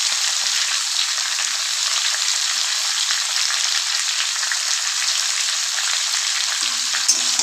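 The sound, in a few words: frying pumpkin pieces with fried hilsa fish head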